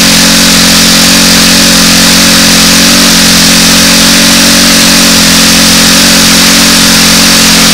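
A model aircraft engine runs during break-in, loud and close, holding a steady, unbroken high-revving drone with no change in pitch for the whole stretch.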